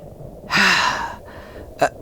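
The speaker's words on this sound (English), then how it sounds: "Just breathe it in. See? In. Out." One deep breath drawn in and let out slowly, close and breathy, followed by a short sharp exhale, with no talking.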